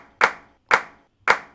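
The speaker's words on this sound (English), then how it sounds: "the only other thing that really joins is this clap" Three sharp clap hits from a music track's drum pattern, evenly spaced about half a second apart, each a bright snappy transient with a short tail, alone with no other instruments.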